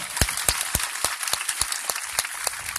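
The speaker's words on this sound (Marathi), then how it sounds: "माझं भाषण आवडलं असेल तर जोरानं टाळ्या वाजवा" Sparse, irregular hand claps from a small audience at a training workshop, distinct individual smacks in a loose rhythm rather than a full roar, fairly close and moderately loud.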